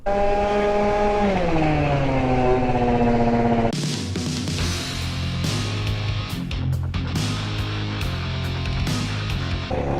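A loud motorcycle engine drones steadily and then revs down, followed by a rougher idle with clattering and knocks.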